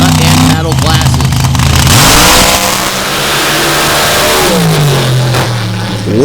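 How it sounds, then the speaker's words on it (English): A 500 cubic inch Alan Johnson drag racing engine with a 14-71 Whipple supercharger roars at a dirt drag race. It is loud and close, with pitch sweeping upward as it accelerates, then a second rising rev near the end. "500 cubic inch Alan Johnson performance engine with 1471 Whipple supercharger on top."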